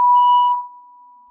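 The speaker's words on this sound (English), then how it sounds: "What the hell's that beep?" A single loud electronic beep rings out sharply, then holds as a quieter steady tone that fades slowly to the end, with no voices.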